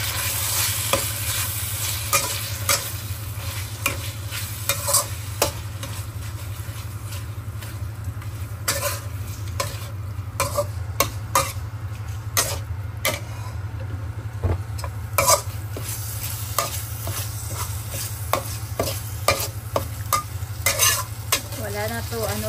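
Corned beef fries in a pan with a steady close sizzle and a low hum, while a utensil stirs and scrapes it in repeated clicks and rattles; no one speaks.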